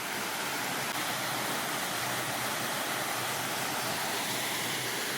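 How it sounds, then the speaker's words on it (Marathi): A small roadside waterfall near Jabalpur pours steadily, a continuous even rushing hiss without pause or voices. "छोटासा धबधबा आपण बघताय."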